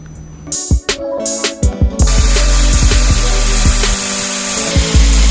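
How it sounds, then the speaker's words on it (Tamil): Small lengths of PVC pipe being cut with a hand saw for a concrete water-fountain base, steady rasping strokes after a few sharp knocks, loud and close with no talking. "பைப் துண்டு வெட்டுறேன்"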